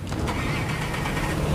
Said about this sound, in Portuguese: Pegar o barquinho aqui e vazar!